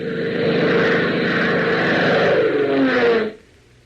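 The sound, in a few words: propeller aircraft flying, radio drama sound effect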